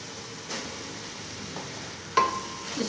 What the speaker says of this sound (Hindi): इसको भी अच्छी तरह मिक्स कर लेंगे।